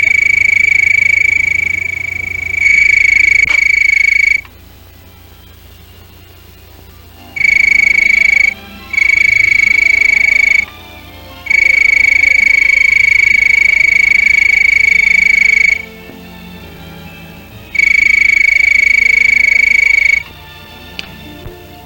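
A frog's mating call slowed to half speed rings out as a sustained, pure whistling tone in repeated long bursts, separated by quieter gaps filled with low background night ambience.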